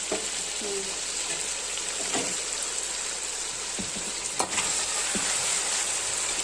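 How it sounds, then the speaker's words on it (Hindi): Chicken sizzles in hot oil with a constant bright crackle, close and loud, with a few clinks and stirring knocks from the pan. "मैं चिकन को बहुत ज़्यादा फ्राई करती हूँ।"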